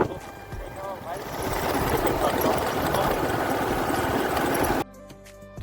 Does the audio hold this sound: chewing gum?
no